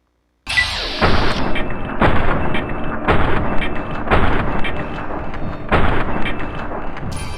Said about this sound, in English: Take 5 shots and see if one of them lands.